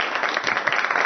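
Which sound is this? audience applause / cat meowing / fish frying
audience applause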